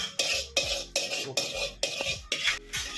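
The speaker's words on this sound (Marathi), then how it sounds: "चमचा घेतो धुवून." Steel spoon being picked up and rinsed, with repeated metallic clinks against a dish and bursts of running water, roughly six close, loud splashy pulses in a steady rhythm.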